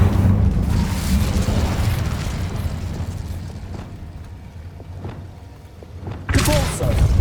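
The Incendio fire spell in Hogwarts Legacy goes off with a loud rumbling whoosh and deep thuds, a burst of fiery roar that fades over several seconds before another sharp blast near the end.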